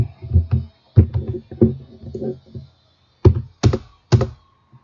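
Computer keyboard typing a file name: short bursts of clicky keystrokes in two groups, with a pause between, close and fairly quiet in an otherwise silent room.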